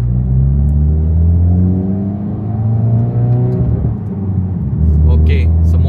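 A Honda Civic Type R FL5 engine revs under light throttle inside the cabin, a deep rising and falling drone with several climbs in pitch, while someone talks over it.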